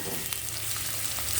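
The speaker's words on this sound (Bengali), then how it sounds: "পেঁয়াজটা একটু ভালো করে কষিয়ে নিতে হবে, একটু লাল লাল হয়ে যাবে।" Onions fry in a pan for a prawn malai curry, a soft continuous sizzle with faint stirring scrapes and no talk.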